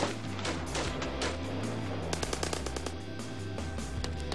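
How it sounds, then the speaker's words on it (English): Rapid automatic gunfire rings out in a street gun battle between police and armed robbers, with loud, sharp bursts of shots that grow denser and more rapid in the second half. "a fierce gun battle between the cops and robbers rages through the streets"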